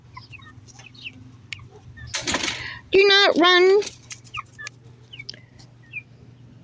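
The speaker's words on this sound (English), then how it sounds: "Are you my rooster?" Backyard chickens cluck in a garden in the evening. A brief loud squawking burst stands out against faint birdsong and a quiet background, and a person speaks briefly nearby.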